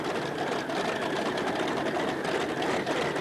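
Allison V12 engines on a modified tractor-pulling machine, running rough at an indoor tractor pull, a dense, loud, continuous roar filling the hall without a break.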